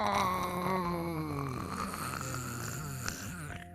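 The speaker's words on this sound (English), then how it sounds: "That was the sound of one of the gummy bears starting to dissolve from the soap." Cartoonish sound effect of a gummy bear dissolving from soap, a gliding, descending warbly tone that fizzles and wobbles downward over a few seconds, close and alone.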